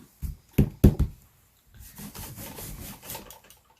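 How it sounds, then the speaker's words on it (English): Rubber stamps for card making being scrubbed clean, with a few sharp knocks at first and then a stretch of soft, rapid scrubbing strokes close by, no voices. "I'm just scrubbing right now off camera"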